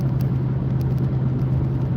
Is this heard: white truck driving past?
yes